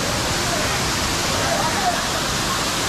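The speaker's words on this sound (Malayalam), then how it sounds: "അടിപൊളി വെള്ളച്ചാട്ടമാണ്." Steady, dense rush of falling water at Courtallam (Kuttalam) Five Falls, a continuous full-band roar with no breaks, heard close and fairly loud throughout.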